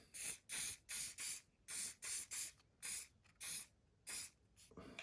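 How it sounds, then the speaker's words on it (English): A hairspray aerosol can sprays in a quick series of short, sharp hissing bursts, about a dozen in a steady rhythm, close by, used on an OO gauge model railway scene. "I'm going to give that a bit of a spray, leave it for a few seconds."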